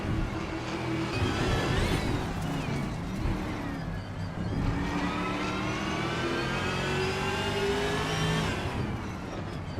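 Race car engines roar in a racing video game, among them a 2012 Lada Granta: a steady, loud blend of revving motors whose pitch climbs and sweeps as cars accelerate and shift, with no pauses throughout.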